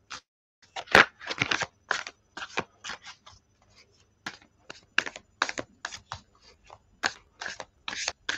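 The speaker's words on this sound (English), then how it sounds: "let's give these a good shuffle" Tarot cards being shuffled by hand, a quick run of crisp riffling and slapping bursts that repeat in short irregular bunches, close and fairly quiet with no talking.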